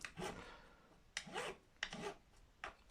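A file rounding the sharp corners of a guitar nut on a Japanese Fender Mustang, heard as four soft rasping strokes with short pauses between them, quiet and close.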